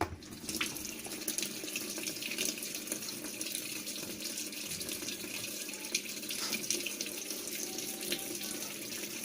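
Water pours steadily into a washing machine converted from automatic to manual, a faint continuous splashing hiss of tap-fed filling that holds even throughout, with no talking.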